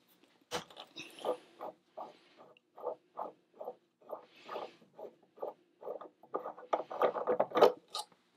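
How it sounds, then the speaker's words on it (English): A wooden wine bottle stopper is unscrewed from a small pen lathe, a series of rhythmic ratcheting squeaks and clicks, close and fairly quiet, quickening toward the end. "I'm going to take and unscrew this from the lathe"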